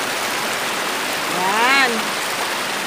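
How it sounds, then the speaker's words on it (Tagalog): Naruron Falls roaring as a steady, loud wash of falling water close by, with a short voice rising over the rush partway through. "Oh, ito siya, guys. Yung falls."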